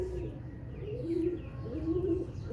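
Pigeons coo softly in repeated low, rolling phrases close by, several calls spaced across a couple of seconds over a faint, muffled background.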